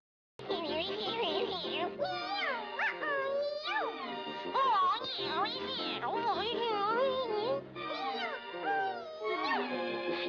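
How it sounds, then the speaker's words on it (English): Two cartoon cats, a yellow one and a girl cat, meow along to a song in a 1945 Looney Tunes short, a continuous string of sung, pitch-sliding meows that runs loud and unbroken throughout. "We start off with the yellow cat and the girl cat meowing"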